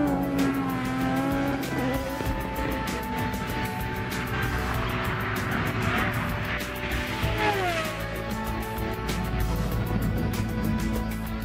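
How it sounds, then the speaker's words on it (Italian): An F-104 Starfighter jet and three Formula 1 cars race over 1000 metres on an airfield runway, a loud, continuous roar of engines with rising and falling whine and tire noise throughout. "l'insolita gara di velocità sulla distanza di 1000 metri tra il 104 e tre bolidi della Formula"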